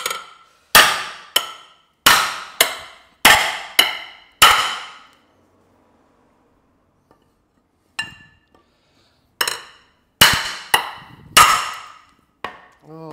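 Hammer blows ring out on a metal car frame being strengthened during fabrication of a Mercedes SLK gullwing project. The blows come in sharp, loud clusters, then a pause, then more strikes.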